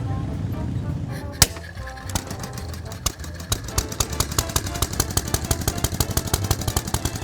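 Small engine fitted with a town and country exhaust system, running with a quiet, even rhythmic chuffing that settles into steady regular pulses after a couple of sharp knocks.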